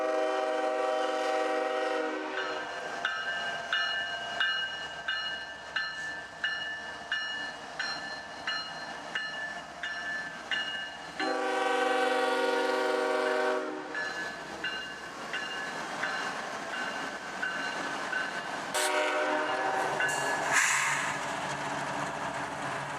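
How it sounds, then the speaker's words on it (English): CSX helper locomotives roll back into the yard from a tunnel portal with repeated rhythmic clanking over rail joints, loud horn blasts at the start and again near the end. "The helpers cut off on the fly at the tunnel portal and roll back into the yard"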